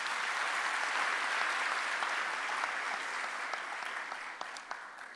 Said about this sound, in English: Can we please give her another round of applause?